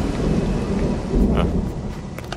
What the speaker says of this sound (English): That thunder's really loud.